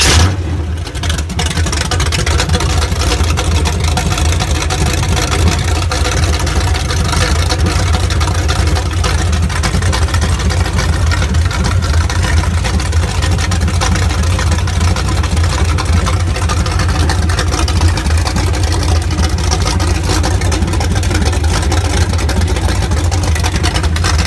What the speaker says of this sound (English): I'm gonna start the motor for you. It's a little bit loud